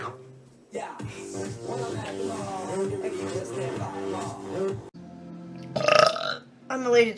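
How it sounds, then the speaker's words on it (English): One loud, drawn-out burp rings out near the end after a stretch of low background sound, followed by a short second vocal burst. "the burp was coming"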